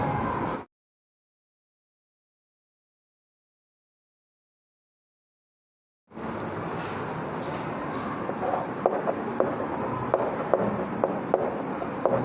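Chalk or marker writing on a classroom board during a lesson on asexual reproduction, heard as steady scratchy strokes with small taps after a long silent gap, fairly close and alone.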